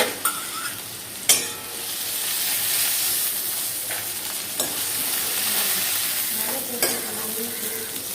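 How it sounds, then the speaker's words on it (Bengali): Eggplant slices fry in hot oil for a Bengali shukto, a loud, steady, close sizzle with a few sharp clatters and pops of a utensil breaking through, and no voices. "এরকম বেগুনটা ভাজা হয়ে গেছে"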